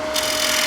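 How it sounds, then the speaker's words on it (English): A bowl gouge shears waste wood from the interior of a spinning bowl on a lathe, a brief loud continuous rasping scrape with no pauses. "the right-hand side of that gouge is taking out the waste wood"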